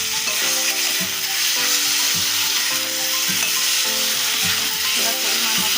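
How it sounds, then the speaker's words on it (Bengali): Whisked yogurt added to frying masala in a pan, a loud close sizzle with a regular beat of stirring strokes roughly once a second, a melodic tone running underneath and no talk. "মশলা আমার কষানো হয়ে গেছে। এবার আমি ফাটানো দইটা দেবো।"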